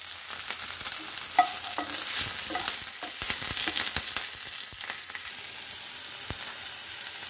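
Chopped green chilli and ginger fry in a little ghee in a kadai, a continuous close sizzle with stirring scrapes and soft crackles throughout.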